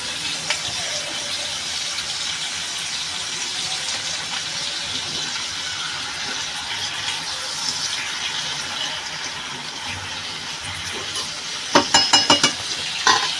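Onions frying in a pan for a Bengali dish give a continuous close sizzle, with a few quick scraping taps of stirring near the end.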